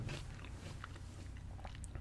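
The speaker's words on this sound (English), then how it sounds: "I apologize for my crunching if you don't like that." Chili lime chips crunched up close while eating, a steady run of crisp, brittle bites and chewing that fills the clip alone.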